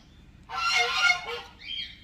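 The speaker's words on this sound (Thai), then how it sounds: "เสียงห่านเสียงห่าน" A goose gives a loud, close burst of harsh honking that lasts about a second, then a shorter, fainter honk follows. Otherwise the scene is quiet.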